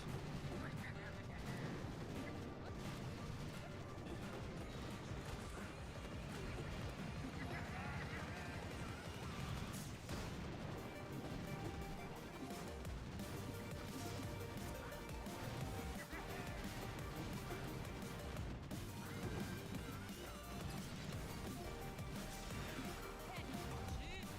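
Artillery barrages fired at an enemy in a video game make a dense, continuous rumble of booms and crashes over about twenty-five seconds. A voice talks throughout over the steady, fairly quiet wash of explosions.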